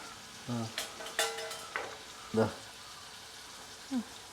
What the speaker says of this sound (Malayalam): ഇഞ്ചിയും വെളുത്തുള്ളിയും ഇടുകയാണ്.